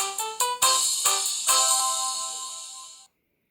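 An intra-office telephone in a business setting rings with a bright electronic warble, a few quick chirps swelling into a sustained trilling tone that stops abruptly after about three seconds, clear and alone.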